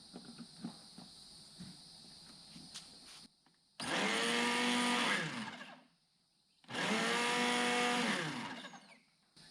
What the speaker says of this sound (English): let's see if it'll power up the initial surge of a blender.